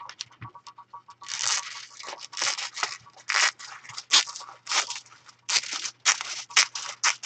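Scissors cutting through foiled card in a series of crisp, close snips and crunches, some single and some in quick bursts, with short pauses between cuts.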